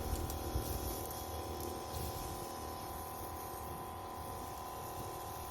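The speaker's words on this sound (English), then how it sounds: "Here you can see I've turned on the sprayers and all of them are working" A small electric pump runs continuously, feeding a four-nozzle PVC sprayer rig mounted on a Ryobi ride-on mower, producing a steady whirring hum with a constant hiss of spray and no speech.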